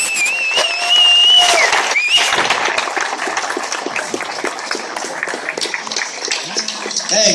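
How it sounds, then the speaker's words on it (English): At a convention panel, a crowd claps and cheers for the presenters, with scattered whoops and a whistle over steady clapping, and a few voices carrying over the noise. "another round of applause for these guys"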